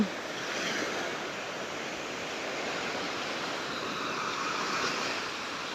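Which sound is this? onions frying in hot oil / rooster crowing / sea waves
sea waves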